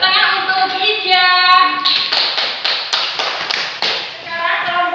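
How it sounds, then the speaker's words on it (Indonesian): Schoolchildren in a classroom clap for a classmate in a short burst of sharp, rhythmic hand claps, framed by children's voices before and after. "Tepuk tangan untuk Ija."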